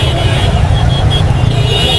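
Dense, continuous road traffic in a busy old Lahore bazaar street, loud and close, with engines rumbling and a steady wash of vehicle noise throughout.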